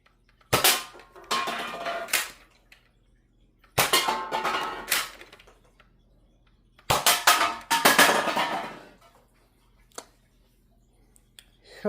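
A toy revolver blaster fires Nitro Shot darts at cans, each sharp snap followed by clattering can hits, in three separated clusters of rapid shots with quiet gaps between, plus a lone later pop.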